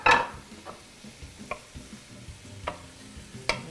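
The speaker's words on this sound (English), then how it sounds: "So we want to stir constantly, keep it moving." Bolognese sauce vegetables are stirred in a pan: a low, quiet simmering sizzle broken by a handful of distinct spoon scrapes and taps at irregular intervals.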